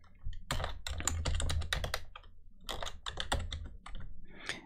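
A password is typed on a computer keyboard in quick, irregular bursts of close, soft key clicks with brief pauses, alone and without talk.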